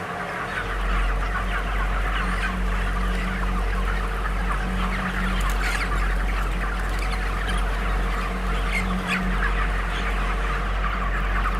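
A crowded broiler chicken farm fills the air with continuous clucking from many birds over a low, steady mechanical hum, loud and close without pause.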